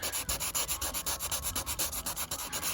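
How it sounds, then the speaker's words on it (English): Rapid back-and-forth sanding strokes scrape rhythmically against a plastic headlight lens on a Range Rover L322, close and steady, with no voices. "Now we've done a bit of sanding"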